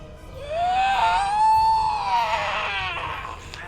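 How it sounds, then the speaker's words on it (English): Inserted scream effect during a tabletop fantasy role-playing session, a single sustained high wailing cry that swells and then fades with a reverberant tail, lasting about three seconds. "It's around this time that you hear a scream."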